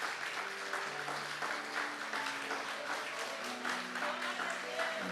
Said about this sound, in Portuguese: Com força, vamos aplaudir com força ao Senhor.